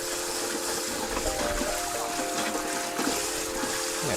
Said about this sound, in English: if you're cooking in a carbon steel wok like this one, so we want to give it a quick rinse